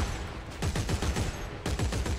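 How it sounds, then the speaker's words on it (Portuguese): Rapid bursts of gunfire from the Dead Space 3 video game, several volleys of shots in quick succession with a brief lull before another barrage, loud and alone with no talk. "Muitos tiros, muitos tiros."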